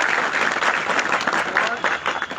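Applause from an audience at a gathering of contract and outsourced workers. Many hands clap together in a dense, steady wash of sound that is loud and close and carries on through the whole moment.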